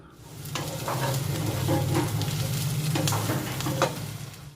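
Chopped onions frying in a pan, a dense continuous sizzle with a low rumble underneath and repeated scraping stirs, close and fairly loud with no voices.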